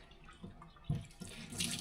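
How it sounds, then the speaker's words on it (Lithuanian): Dishes washed by hand under a running kitchen tap, close and fairly quiet, with splashing water, soft clinks and a rising rush of flow near the end. No one speaks. "Susiplaunu rankom indus."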